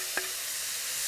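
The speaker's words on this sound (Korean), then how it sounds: "그래서 고기도 이렇게 넣고 먼저 볶아주셔야 돼요." Sliced beef and radish stir-frying in a pan, a soft, steady sizzle with one brief clack of a utensil near the start.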